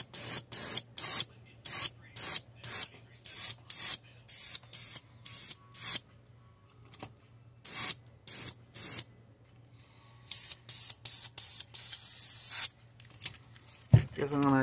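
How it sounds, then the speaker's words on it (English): An airbrush sprays paint in a perch pattern in short, regular hissing bursts, about a dozen in quick rhythm, pausing, then resuming in another run of bursts, close and fairly loud. "And we're just kind of random spraying this, except for on the back."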